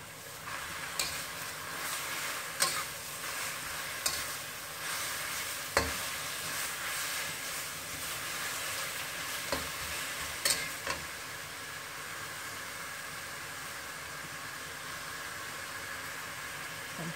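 Spinach stir-fries in a hot pan, seasoned with salt, fish sauce and oyster sauce. A soft, steady sizzle runs throughout, broken by brief scraping clatters of stirring.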